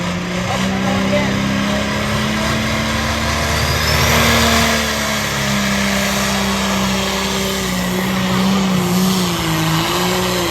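A pulling tractor roars through a tractor pull run, its engine note sustained and loud with pitch wavering and climbing as it strains down the track, crowd chatter and a voice audible underneath.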